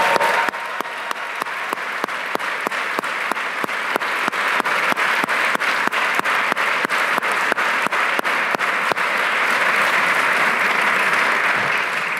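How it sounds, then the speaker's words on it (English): An audience at a mayor's State of the City address applauds steadily for several seconds, a dense, even wash of clapping that fills the hall without a break. "I want to give him a special round of applause"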